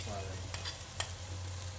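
Tomato sauce being stirred into browned meat in a pan for spaghetti bolognese, a faint soft scraping and sizzle with a couple of light taps, no talking.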